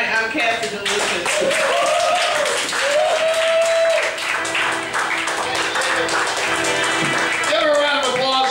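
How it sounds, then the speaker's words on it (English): Audience applause and cheering for a female comedian at a comedy night, steady clapping throughout with voices and whoops mixed in over the crowd noise. "Give her a round of applause, ladies and gentlemen."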